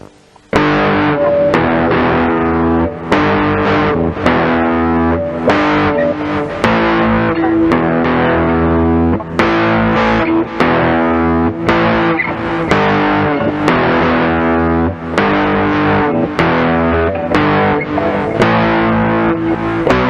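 A C&G EFB-1 electric guitar, a budget model, played with reverb on. It rings out in strummed chords and picked notes, loud and continuous for about twenty seconds, with no talking.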